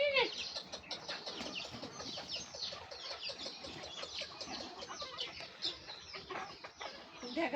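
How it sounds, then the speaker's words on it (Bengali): A flock of village chickens clucks and squawks continuously at close range, a dense overlapping chatter with occasional sharper calls and some wing flapping, no talking. "দেখা কিভাবে মুরগি গুলা করে উঠে গেছে নিচে নামো নিচে দেখো"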